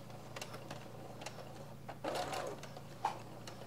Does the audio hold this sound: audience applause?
no